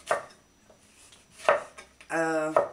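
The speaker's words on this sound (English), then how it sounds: "now I'm gonna chop my last tomato" A knife chops vine tomatoes on a cutting board for tabbouleh, landing three sharp, close, well-spaced strikes, with a short voiced sound just before the last one.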